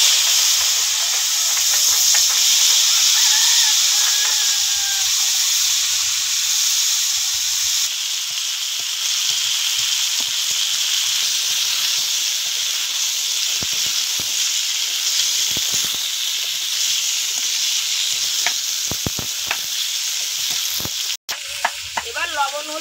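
Vegetables dropped into hot oil tempered with cumin, an intense close hiss and sizzle that holds loud and steady, easing slightly midway, with occasional stirring knocks and a brief sharp clank near the end.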